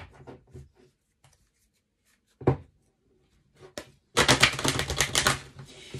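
Oracle cards being shuffled, a vintage deck: soft scattered card taps at first, then a dense, steady riffling burst over the last couple of seconds, close and fairly loud with no talking.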